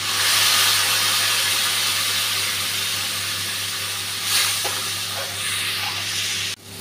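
Spice paste hitting hot oil in a pan with onion and green chili, cooking for mukhi kochu with prawns: a loud, steady hiss and sizzle that eases slightly, with a brief stirring scrape near the end.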